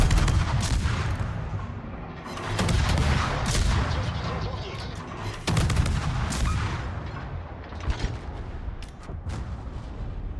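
Naval guns firing in World of Warships from the cruiser Gdansk, with repeated loud booming salvos spread across the stretch over continuous rumbling battle noise.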